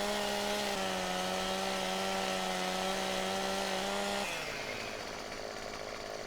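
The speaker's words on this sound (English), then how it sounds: "This still chainsaw is a very cool chainsaw." Chainsaw cutting a tree in the Farming Simulator 17 video game, a loud steady engine whine that holds for about four seconds and then drops to a lower, rougher idle.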